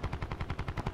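Rapid automatic gunfire from the video game Call of Duty: Black Ops 4, a steady burst of about eight evenly spaced shots in under a second, moderately loud with no talking.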